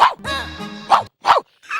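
A man imitates a dog, giving a loud sharp bark, then a drawn-out whining howl, followed by two more quick barks and a short yip, all close and clear against a quiet background during a comedy stage performance.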